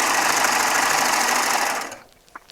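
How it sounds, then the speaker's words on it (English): A Baby Lock Triumph serger stitches jelly roll quilt strips, running loud and fast with a steady buzzing whir close by, then slowing and stopping, followed by a couple of faint clicks. "I'm just going to serge it off"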